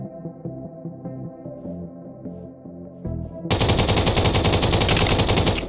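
Gunfire from a gun in modded Minecraft on an island warfare map: sparse electronic pops give way to a loud, sustained burst of rapid automatic fire at the end, with no talk.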